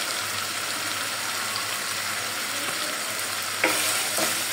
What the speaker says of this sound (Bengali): আমি এখন মশলাটা একটু কষাবো